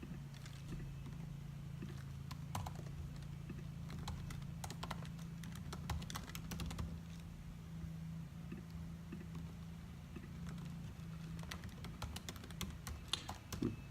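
Typing on a computer keyboard, a soft, steady patter of key clicks with occasional louder taps, close but quiet over a low hum, no voices.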